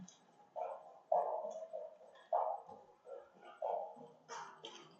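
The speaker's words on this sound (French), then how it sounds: "Le chien qui aboie." A dog barks in repeated single woofs, a handful of fairly close barks spaced irregularly across a few seconds, with no voices over them.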